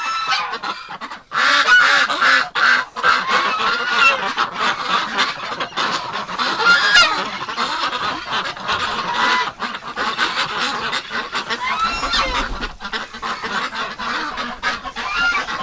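Ducks call in winter with loud, honking quacks that repeat and overlap continuously close at hand, rising and falling in a busy, noisy chorus.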